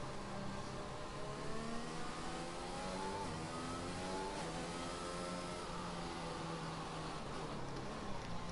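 An F1 car in F1 2021 entering the pits at the Singapore circuit, its engine whining in a mid-pitched tone that rises and falls, steady and moderately loud, with no talking.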